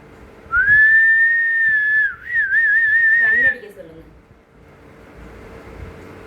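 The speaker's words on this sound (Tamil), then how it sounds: "இங்கே பாரு விசில் அடிக்க போகிறேன்" A person whistles a loud, sustained tone close by, holding it for over a second, dipping briefly, then continuing with a warbling trill before stopping, followed by quiet room noise.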